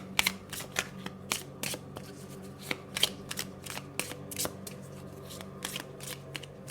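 Tarot cards are handled and shuffled close up in a quiet room: a steady riffling patter with sharp crisp flicks and soft card slaps.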